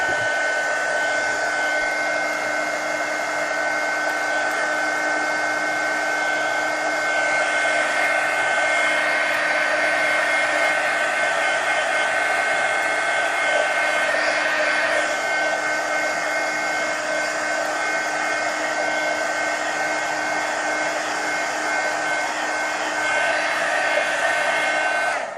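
Hair dryer blowing over a mixed media color book page, a loud, steady, unbroken whooshing whine held close for the whole stretch, with no speech.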